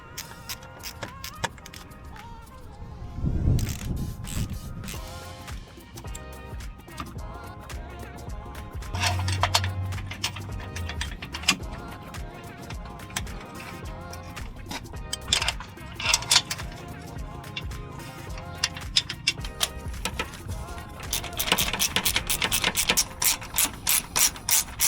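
A ratchet tightening bolts on an aluminum power steering pump on a 2020-2023 Jeep Wrangler, with repeated bursts of close, rapid clicking and occasional metallic clanks over about twenty-five seconds, no talking.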